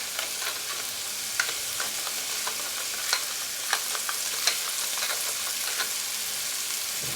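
Small seasoned chicken pieces frying in a pan, a steady moderate sizzle with scattered spatula scrapes and a few sharper clinks, no one speaking.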